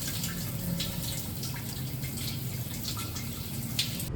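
Shower water runs steadily in hot Outback conditions, a continuous hissing spray with faint splashing and no pauses or voices.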